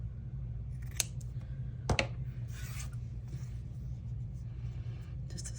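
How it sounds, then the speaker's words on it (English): Scissors snip through a small scrap of material during a crafting project, two quick sharp cuts followed by a soft rustle of handling, close and fairly quiet over a low background rumble. "Let's trim this off."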